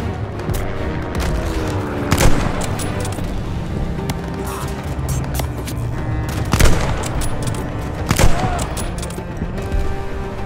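Gunfire in Call of Duty: Vanguard's Fourth Reich mission, rapid bursts of automatic fire and heavy booming shots echoing through a busy combat soundscape, with several loud peaks across the stretch.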